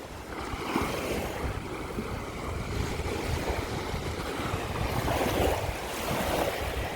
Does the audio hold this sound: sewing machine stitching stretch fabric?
no